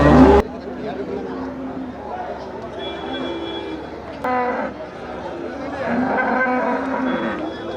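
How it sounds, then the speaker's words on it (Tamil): Cattle low at the Melapalayam cattle market, a few moos rising over a steady crowd of chatter and bargaining voices in a busy outdoor livestock fair. "காளை மாடு பசு மாடு எது வேணாலும் வாங்கிக்கலாம்"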